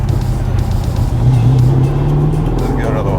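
A Saleen S7 Twin Turbo Competition engine drones loudly and steadily, rising in pitch as it accelerates, with a bit of talk over the roar.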